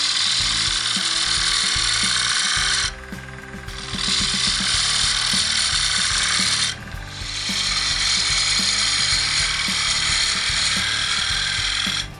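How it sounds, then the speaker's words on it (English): A wood lathe turns a cake stand while a gouge shears across it, a loud, close, continuous whirring rasp with brief dips where the tool lifts off the wood. "So I'm using the gouge almost as a shear scraper."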